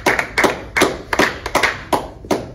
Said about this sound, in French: On peut l'applaudir pour les deux.